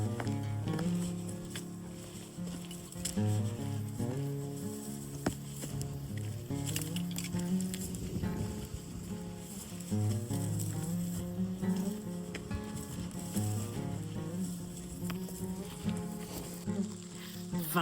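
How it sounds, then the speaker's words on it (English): Steady rain patter falls on a hiking trail and gear, a dense crackling hiss that holds throughout with faint footsteps mixed in. "Finally got a true rain day. A true rain hiking day."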